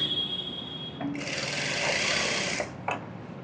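A sewing machine runs a steady stitching burst for about a second and a half while sewing around a blouse, starting and stopping cleanly, with a brief faint click after it stops.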